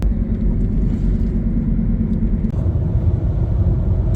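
Car cruising on the highway toward Atlanta, a steady low road rumble and engine drone heard from inside the cabin without any talking.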